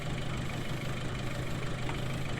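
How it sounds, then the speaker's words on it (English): A four-wheel drive tractor engine idles steadily in the Farming Simulator 19 video game, carrying bales with its rear wheels lifting, giving a constant low, rumbling drone with no talk. "this is the four-wheel drive tractor as well"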